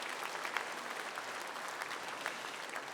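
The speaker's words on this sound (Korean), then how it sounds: "일본에서 오신 분들 우리 박수로 축복해 주시기 바랍니다" A church mission conference audience applauds to welcome visitors from Japan, a soft, even wash of many hands clapping at a distance in a large hall, steady and uninterrupted with no voices over it.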